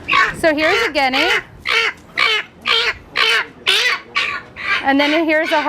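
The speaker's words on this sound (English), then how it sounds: "So here's a guinea." Guinea fowl, kept with chickens at a custom meat farm, give a run of about nine loud harsh rhythmic calls in quick succession, close by, with no talk over them.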